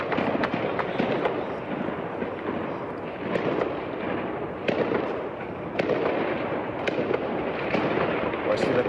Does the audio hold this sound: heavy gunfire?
yes